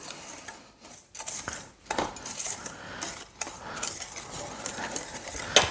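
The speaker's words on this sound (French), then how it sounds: "On va déjà mélanger un tout petit peu pour faciliter après" Cake batter ingredients are stirred in a bowl by hand, a utensil scraping and clinking against the sides in uneven strokes, close and fairly quiet, with no talk.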